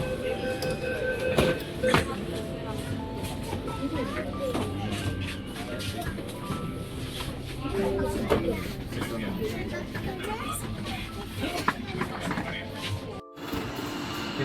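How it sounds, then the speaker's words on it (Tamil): A metro train rumbles past with a steady roar and occasional metallic squeals, while people talk in the background. "இதான் போகுது நாங்கள் போக வேண்டிய ட்ரெயின்."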